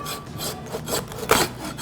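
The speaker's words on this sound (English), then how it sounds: "Just sawing a bone on a short rib plate." A rough, rasping saw grinds back and forth through the bone of a beef short rib plate in steady strokes, close and loud, with a sharper scrape near the end.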